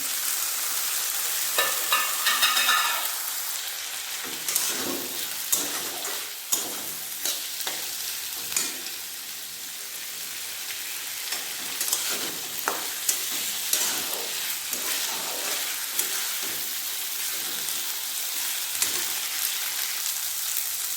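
A fish head fries with spices in a wok, giving a continuous close sizzle broken by frequent sharp spatula scrapes and taps against the metal.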